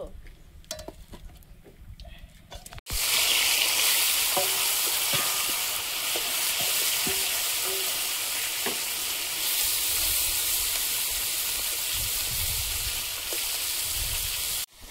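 Small chuno fish frying in hot oil for a tomato chorchori, a loud steady sizzle that bursts in after a quiet start and runs continuously, with occasional utensil clinks and stirring scrapes.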